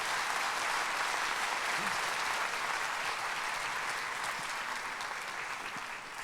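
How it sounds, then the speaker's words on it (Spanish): A church congregation applauds during a Spanish-language sermon, sustained broad clapping from many people in a large room, fairly distant and even, tapering slightly toward the end. "Dale un aplauso al Señor."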